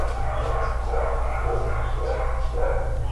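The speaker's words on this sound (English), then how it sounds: "Right now she hears the dogs in the background," Dogs bark faintly in the background at an animal shelter, blending into a steady low hum of room noise.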